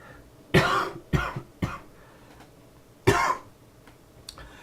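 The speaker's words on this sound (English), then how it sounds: "I need to cough" Three sharp coughs in quick succession, then a pause and one more loud cough, close to the microphone with quiet between them.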